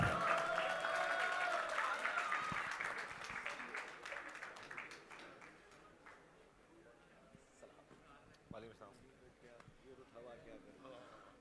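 An audience applauds a speaker's entrance at a talk, starting as loud, dense clapping with a musical sting under it, then thinning and fading into a quieter room murmur with scattered claps.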